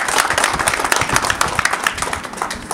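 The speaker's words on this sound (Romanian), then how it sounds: "Haideți să le mulțumim și să-i aplaudăm." An audience at a festival event applauds two Bessarabian artists, a dense, steady burst of many hands clapping heard close and loud.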